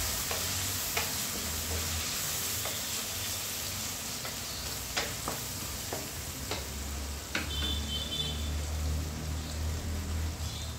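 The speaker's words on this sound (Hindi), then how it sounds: "इसमें डालेंगे ही 1/4 जितना, और वापस इसे हम चला लेते हैं।" A spoon stirs misal masala frying in a pan with softened tomatoes, repeated scraping clicks over a continuous low sizzle.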